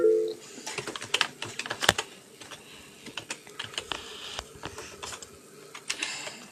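Rapid typing on a computer keyboard into Notepad, with uneven bursts of close, crisp key clicks and a few sharper, louder strikes.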